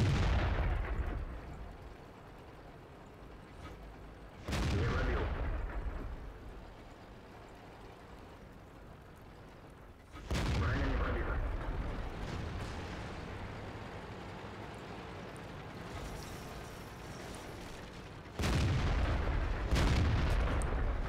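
Tank cannon fire in World of Tanks from a KV-13 medium tank, four heavy booming shots spaced several seconds apart, each with a long rumbling decay, loud and close without speech.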